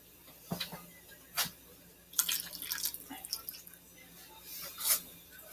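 Water splashes and trickles unevenly into a stew pot, poured into the same spot, with a few soft knocks and clinks, fairly close.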